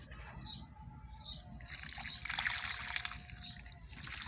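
Cold water runs and trickles while rice is rinsed in a home kitchen, a continuous splashy pour that swells toward the middle with faint background noise and no voices over it.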